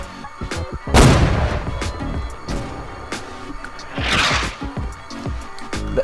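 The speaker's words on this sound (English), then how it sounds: "Whoever just fired that fucking cannonball just missed my head." Cannon fire booms out in a naval battle in the video game Holdfast, with one loud close blast followed by further shots and crackling musket-like reports across the scene.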